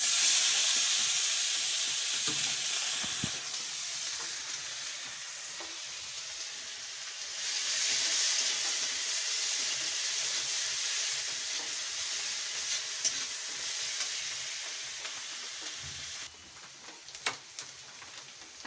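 Onion paste sizzles and hisses in a hot pan for a long stretch, stirred now and then, the frying swelling louder midway before settling down.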